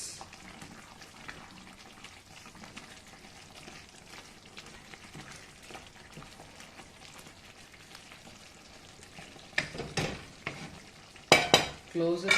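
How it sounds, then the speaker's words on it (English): A spoon scraping and stirring vegetable upma of roasted semolina in a pan, soft quiet scraping and faint sizzle, then a few louder metallic knocks and scrapes against the pan toward the end. "give it a good mix."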